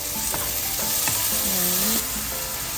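Meat browning in a frying pan, a strong close sizzle running steadily throughout, punctuated by several knocks and scrapes of a spatula stirring, with a soft tonal squeak partway through.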